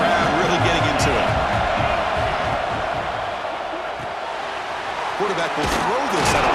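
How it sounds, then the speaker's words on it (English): A stadium crowd in EA Sports College Football 26 roars at a steady, loud level during a third-down football game between South Carolina and Alabama, with a commentator's voice running over the noise. "Third down, and the crowd really getting into it."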